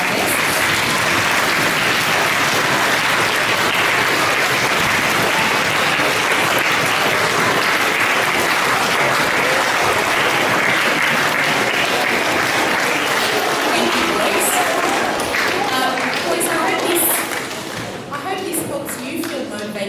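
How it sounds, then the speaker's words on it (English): A large audience gives guests at an Australia-themed show a last big round of applause, loud and sustained hand clapping that fades slightly near the end. "can you show one last big round of applause for our guests?"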